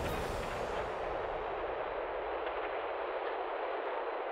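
Gunfire and explosions from a video game firefight form a continuous, dense roar, loud and steady throughout with no single shot standing apart and no voices.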